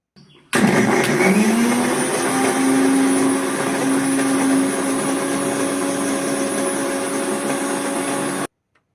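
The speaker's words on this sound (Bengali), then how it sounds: "এবার এটাকে গ্রাইন্ড করার পালা।" A kitchen mixer grinder whirs up a spice paste for aloo dum, its motor starting abruptly into a loud, steady whine that holds for about eight seconds before cutting off.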